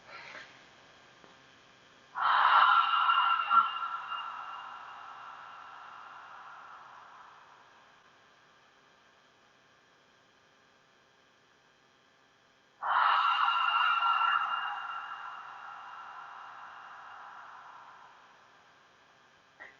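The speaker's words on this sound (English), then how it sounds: "This time when you breathe out, make a sound like you're trying to huff up a piece of glass" Two long, breathy Ujjayi exhales, each a soft open huff like fogging a glass, starting abruptly and tapering off slowly, separated by about ten seconds of near silence in a quiet room.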